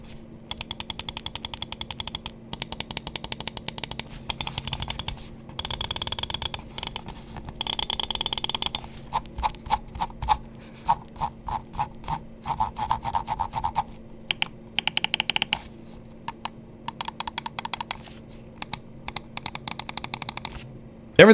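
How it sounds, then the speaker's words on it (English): Crisp mouse button clicks from a Pulsar Pro Series Susanto-X gaming mouse, tapped in quick bursts and steady runs, close and clear with no talking. "let's just go ahead and drop the click quality sound test."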